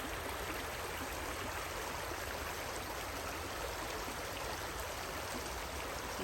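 A stream flows on a morning nature walk, a steady, even rush of water heard close and alone, filling the scene with a constant bright hiss without pauses.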